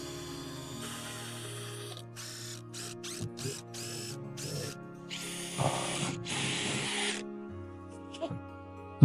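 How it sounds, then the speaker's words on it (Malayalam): A power drill drives screws while a trellis for bitter gourd is set up in a garden, giving a series of short whirring bursts followed by two longer runs, close by and fairly quiet. "നമുക്ക് ഇവിടെ നിന്ന് സ്ക്രൂ ചെയ്ത് കൊടുക്കാം."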